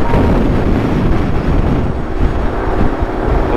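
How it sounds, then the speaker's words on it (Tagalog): Loud, constant wind roar buffeting the microphone on an open-air ride beside the sea in the Philippines, a dense rushing noise with no pauses. "lakas yung hangin."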